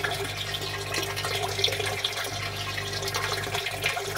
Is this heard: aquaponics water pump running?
yes